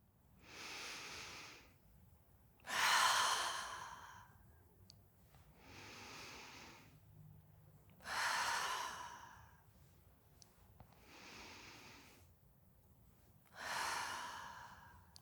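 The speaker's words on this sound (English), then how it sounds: "Then expel all that old air from the bottom of your lungs." A person in a guided meditation takes slow, deep breaths. Three long, airy exhales stand out, each followed by a softer inhale, in a quiet, close, regular rhythm with no talking.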